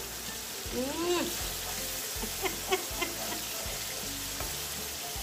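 Masala spice paste for a Bengali rita fish curry frying in a pan, a steady loud sizzle with occasional stirring scrapes and clinks of a utensil, and no talking.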